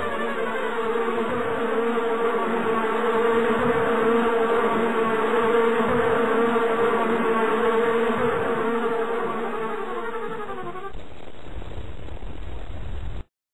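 Buzzing bees as a cartoon sound effect, a dense, loud, steady drone of many insects that continues for about eleven seconds, then thins briefly before cutting off abruptly.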